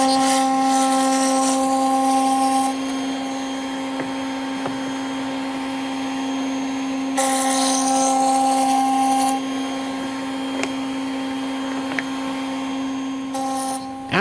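A woodworking router cutting rabbet and dado joints in wood, a loud, steady high-pitched motor whine that runs throughout, with brief changes in tone as the bit bites into the workpiece and tiny clicks close by.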